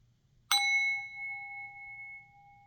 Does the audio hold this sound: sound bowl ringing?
yes